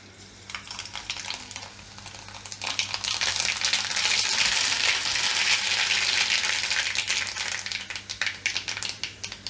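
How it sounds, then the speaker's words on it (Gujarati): Mustard seeds crackle and sizzle in hot oil in a kadai while tempering for patra, a dense, loud frying hiss that builds, holds steady and then breaks into sharper popping bursts near the end. "તેલ ગરમ થઈ ગયું છે આપણું હવે આપણે એમાં રાઈ નાખીશું"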